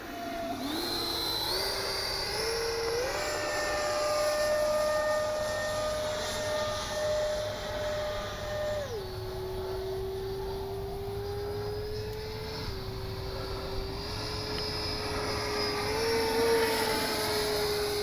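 A Kavan Skyfox L-39 radio-controlled model jet flies continuously during its maiden flight, its turbine whining steadily with the pitch stepping up and down as the throttle changes.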